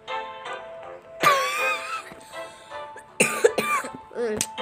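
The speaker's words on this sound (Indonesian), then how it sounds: "batuk coy. Itu karena lagi sakit ya." A few sharp coughs and throat clearing burst out close by, separated by short pauses, with faint background sounds between them.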